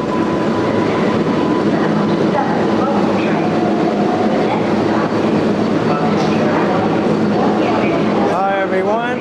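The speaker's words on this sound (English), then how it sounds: "I just got off a number 7 train at the Times Square 42nd Street station." A number 7 subway train at the Times Square 42nd Street station rumbles loudly and steadily along the platform, with a rising squeal of wheels near the end.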